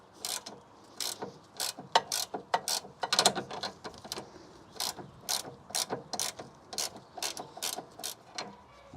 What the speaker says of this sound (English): Yep, Torx 30 and a 16mm wrench. And then just loosen this off.